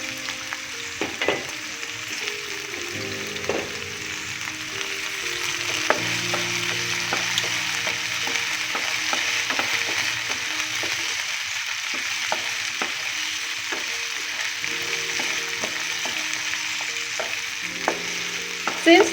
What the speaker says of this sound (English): Now the vegetables are cooking, so I have also added the tomatoes. So let's fry them well.